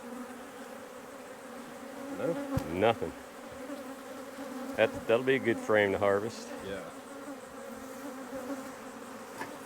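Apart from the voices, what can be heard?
honey bees buzzing around hive frame during harvest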